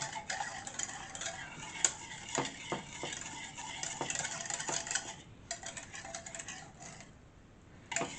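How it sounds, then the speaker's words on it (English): A whisk beats a mixture in a pot on the stove for a lasagna, with quick light scrapes and ticking taps against the pot that are fairly quiet and close. "Let's whisk everything together."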